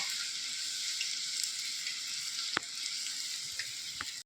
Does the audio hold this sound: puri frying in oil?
yes